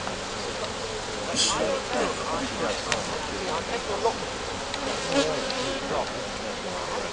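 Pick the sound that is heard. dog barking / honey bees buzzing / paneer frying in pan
honey bees buzzing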